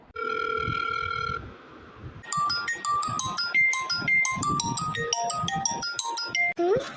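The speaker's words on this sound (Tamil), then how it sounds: "ஃபோன் அடிக்குது" A telephone ringtone plays loudly and alone: a steady electronic tone first, then a bright, quick run of synthesized melodic beeps that repeats for several seconds.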